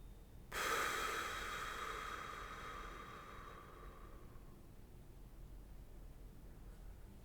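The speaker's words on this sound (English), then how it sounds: "Inhale through your nose from the base of your spine all the way to the crown of your head." One long, deep breath close to the ear, part of a relaxation exercise: a sudden airy rush that slowly fades over about four seconds into near silence.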